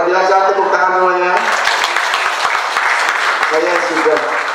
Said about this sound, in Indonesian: Masya Allah, luar biasa, tepuk tangan semuanya